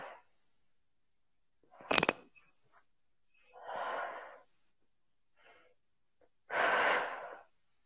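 A person takes slow, deep breaths during a psychology consultation: a sharp sniff, then long audible inhales and exhales separated by pauses, close and fairly soft.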